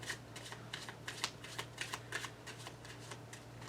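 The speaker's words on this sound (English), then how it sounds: "Give them a nice thorough shuffle here." A deck of playing cards being thoroughly shuffled during a magic performance at a small theater, with quick repeated riffling bursts in a steady rhythm, close and fairly quiet with no talking.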